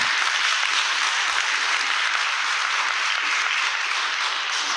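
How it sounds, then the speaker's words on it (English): Sustained applause from the audience at a school board meeting, a dense, even wash of clapping filling the room at steady loudness for several seconds with no speech over it. "If we can keep the applause to minimum"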